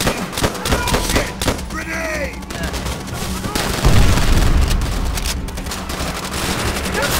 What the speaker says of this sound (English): Grenade! They're falling out of every corner!